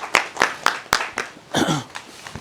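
An indoor audience welcomes a speaker at a talk on a tax laws amendment bill with a handful of sharp, separate claps in a loose rhythm, with a brief murmur of voice midway.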